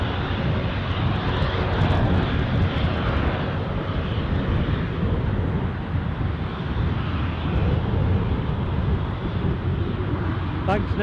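An airliner arriving at Newcastle airport from Amsterdam roars steadily and loudly throughout, a broad continuous engine rumble with no break, close and dominant.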